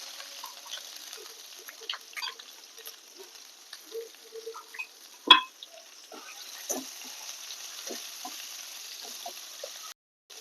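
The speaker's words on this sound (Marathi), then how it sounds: "कांदा चांगला लाल होईपर्यंत पत्रायचा" Onion sizzling and frying with ginger garlic paste and asafoetida in a hot kadai, soft crackling patter with scattered pops and one sharper snap, steady and close with no talking.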